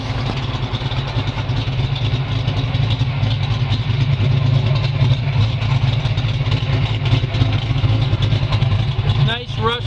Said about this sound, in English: At the dual Flowmasters, you can hear that cam.